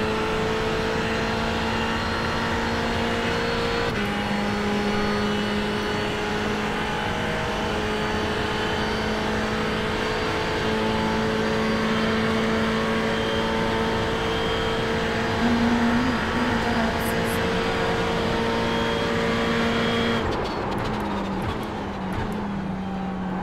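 A Ferrari 488 GT3 race car engine drones steadily at high revs on the Le Mans circuit, heard loud and close from inside the car, with a couple of gear shifts that briefly change the pitch.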